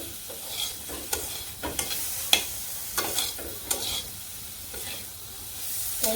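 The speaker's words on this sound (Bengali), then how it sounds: "এই পাশে সয়াবিন ভাজি বসে দিছি" Soybean chunks fry with turmeric and salt over a village cooking fire, a soft hissing sizzle punctuated by evenly spaced spatula scrapes and taps, fairly quiet with no talking.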